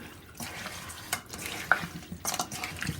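Sardines being stirred into a marinade in a pan, giving soft wet scraping and squelching strokes in irregular bursts, close and fairly quiet with no voices.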